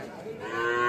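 A young bull calf at a cattle market gives a single short moo that rises and holds, close and clear over faint background noise.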